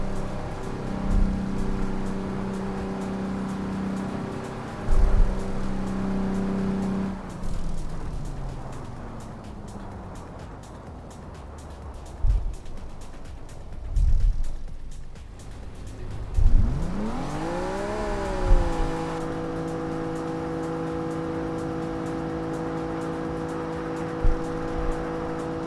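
DeLorean engine driven in Assetto Corsa, a steady droning hum that drops away, then climbs in a rising rev and settles into a sustained tone, with a few thumps along the way.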